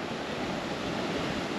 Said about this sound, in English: This is the Temperance River.